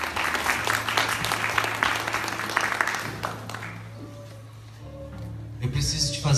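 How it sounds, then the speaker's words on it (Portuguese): Congregation applause at a Catholic church service after the Gospel reading, a dense clatter of many hands for about three seconds, then fading into quieter room sounds and a brief voice. "Aplauda a palavra de Deus"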